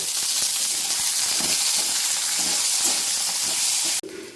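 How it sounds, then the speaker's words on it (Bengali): Onions fry lightly in a pan with a loud, steady sizzle and hiss that has crackly bursts through it. The sizzle cuts off abruptly near the end, leaving only a quieter hiss. "চলো ঝটপট করে আগে পেঁয়াজটা অল্প করে ভাজবো, একদম অল্প।"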